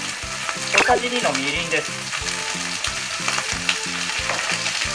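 Beef stir-frying with soy sauce in a pan, a steady broadband sizzle running throughout under a repeating musical backing, with a brief spoken line early on.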